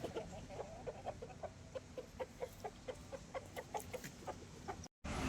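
Roosters kept for a fighting tournament cluck in a steady, rapid series of short calls, moderately close, with no one speaking.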